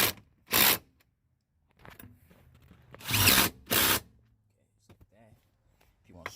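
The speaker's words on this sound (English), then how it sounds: "Use a wrench. Make sure it's tight." A wrench tightens the front seat bolts on a Nissan Altima or Maxima: a few loud, close ratcheting and scraping bursts separated by pauses, then quieter clicks and a brief voice at the end.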